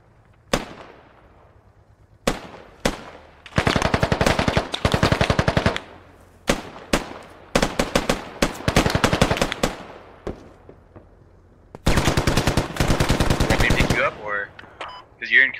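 Automatic weapons fire in bursts in the military shooter game Squad. The rapid volleys are loud and close, separated by single sharp shots and short pauses, and a brief voice comes near the end.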